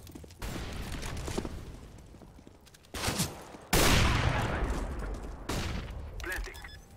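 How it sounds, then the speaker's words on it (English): Bursts of gunfire and sharp blasts in Counter-Strike: Global Offensive around a thrown flashbang grenade, with several abrupt loud onsets, the strongest near the middle, each decaying into a noisy ring under intermittent talk. "I'm throwing a flashbang"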